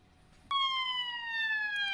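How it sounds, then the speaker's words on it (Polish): A police siren in a video game set in Liberty City wails loudly and steadily, starting abruptly and holding a sliding high tone with no one talking. "Słyszę syreny na radiu."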